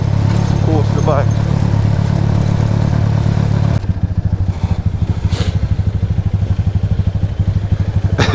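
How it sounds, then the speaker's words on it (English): A street motorcycle coasts downhill around a corner with the engine off the throttle, giving a steady close chugging idle and ticking clatter throughout, while people talk over it. "We'll just coast the bike down."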